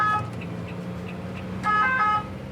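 Emergency vehicle siren on a busy motorway, heard at a distance under steady traffic rumble, with short tonal wails that swell louder toward the end.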